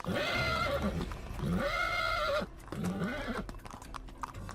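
A horse in a large corral whinnies in several loud, shrill bursts while hooves stamp and shuffle close by, and the calls break off into irregular thuds and rustling.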